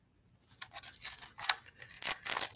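Heavy paper facing being peeled off a foam core board, giving a close, dry, scratchy tearing that runs in several uneven surges over a couple of seconds with no talk.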